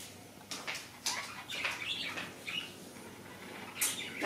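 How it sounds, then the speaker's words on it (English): Pet parakeets squawking indoors, a string of sharp, harsh calls in quick irregular bursts, close and fairly loud, with no talking over them. "One of my parakeets is angry about something"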